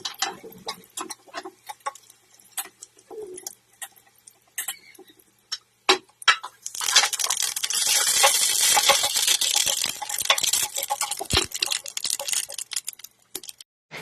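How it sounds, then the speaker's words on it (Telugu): Curry leaves and chopped garlic hit hot oil in a kadai for a beetroot coconut curry. Scattered ticks and pops come first, then a loud, steady sizzle with crackling bursts takes over and runs on. "కరివేపాకు తరిగిన వెల్లుల్లి రెమ్మలు కూడా వేసి వేయించుకోవాలి"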